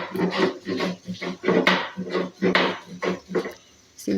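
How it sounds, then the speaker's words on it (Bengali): Ginger is ground on a stone grinding slab, a rough scraping rub repeated in steady back-and-forth strokes, close and moderately loud. "আদা বাটছি শিলে।"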